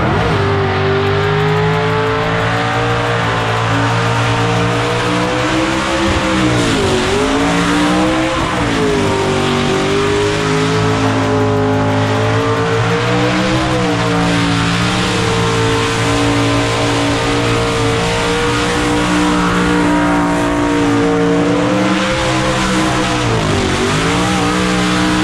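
Blown, injected burnout car engine roaring and revving hard for a long stretch, loud and continuous with rising and falling throttle swells and likely tyre squeal.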